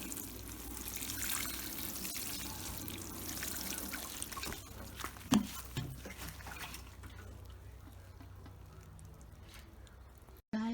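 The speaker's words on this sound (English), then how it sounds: "Need to water it." Water poured onto freshly covered onion bulbs in soil makes a steady trickling, splashing flow that runs for several seconds before tapering off, with a few soft knocks along the way.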